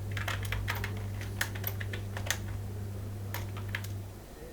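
Code being typed on a computer keyboard: light, scattered keystroke clicks in short irregular runs, fairly faint over a steady low electrical hum, with no talking.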